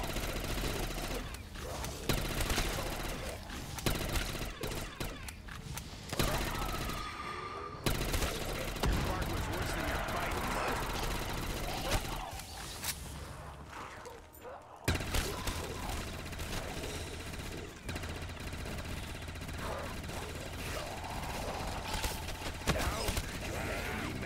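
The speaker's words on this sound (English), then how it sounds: "Keep shooting." Sustained automatic gunfire in a custom Black Ops 3 Zombies map, loud, dense bursts rattling almost without pause, with brief breaks between volleys and mechanical clatter mixed in.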